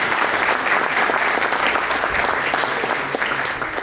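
Dense, sustained applause fills a luncheon hall at a country club, a steady wash of many hands clapping together at even loudness from start to finish.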